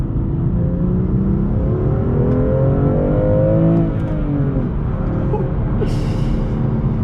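A 2019 BMW M2 Competition with a manual gearbox drones steadily and loudly, its pitch climbing and then dropping as the gears change, with a brief hiss near the end.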